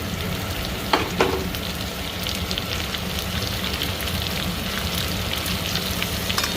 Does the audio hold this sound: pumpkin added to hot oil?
yes